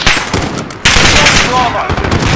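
Loud rapid automatic gunfire rattles in a Modern Warfare battle, dense bursts of shots with a sharp surge midway, voices shouting faintly beneath the firefight.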